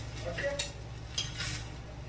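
A fasting-day paratha cooks on a pan with a soft sizzle, punctuated by a few light scraping and clinking touches as it is turned over, close and moderately quiet.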